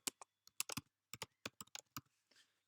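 Typing on a computer keyboard while writing in Microsoft Word, a run of close, crisp key clicks in uneven bursts, with short pauses between and no speech.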